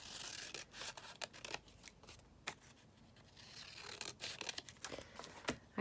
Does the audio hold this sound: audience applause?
no